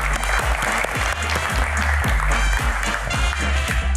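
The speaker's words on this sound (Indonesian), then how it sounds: "tepuk tangan sekali lagi" A TV talk show studio audience claps loudly and steadily to welcome a guest, with a rhythmic musical beat pulsing underneath the applause.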